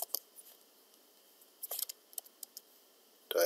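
Someone writes on a board in a quiet room, with sparse faint taps and then short scratchy bursts of strokes, ending in a louder, longer stroke.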